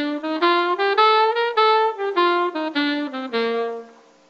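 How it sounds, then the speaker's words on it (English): Wind instrument, likely a horn, playing an early-jazz phrase of swung, detached notes with longer held tones tied into quick triplet figures, accented on the beat, solo and close before fading. "Early jazz phrasing was a quarter note tied to an eighth note triplet with the emphasis on the beat."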